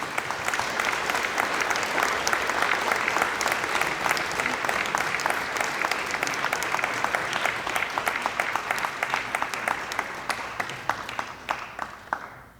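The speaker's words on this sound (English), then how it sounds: "Let's give him a big round of applause." Crowd applause at a university honors night award ceremony, a broad, even roar of many clapping hands kept up for several seconds before thinning out to scattered claps at the end.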